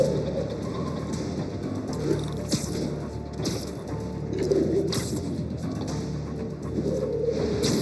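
Pigeons cooing in Marvel's Spider-Man Remastered, with soft repeated coos mixed into a dense, busy game soundscape of low rumbling and occasional thuds, with no clear talking.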